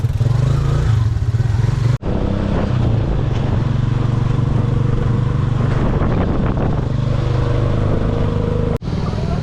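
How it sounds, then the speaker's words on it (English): Ride aboard a motorized tricycle in Dapitan City, with a steady rumbling engine drone, rattling and clatter close by. The sound runs throughout, broken by two brief cuts. "Just under 5 minutes tricycle ride."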